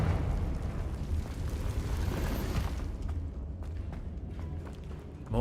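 A fire spell blast in Hogwarts Legacy, a loud rumbling burst with crackling debris that rolls on for a couple of seconds and then fades into quieter game ambience.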